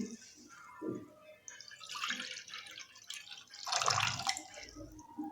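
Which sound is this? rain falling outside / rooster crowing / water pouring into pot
water pouring into pot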